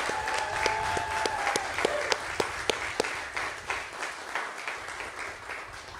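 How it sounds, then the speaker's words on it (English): Applause from an audience at a fire department ceremony honoring a young child, many hands clapping with a few sharp, distinct claps standing out, tapering off toward the end. "let's give him a round of applause"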